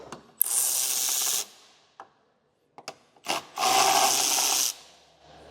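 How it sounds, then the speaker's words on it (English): Tail light screws on a 2025 Kia Sorento being turned out with a 10mm wrench: two long bursts of rasping, ratcheting mechanical noise separated by a short pause with a few small clicks, close and fairly loud, with no talking. "we will take our 10mm and go ahead and unscrew those."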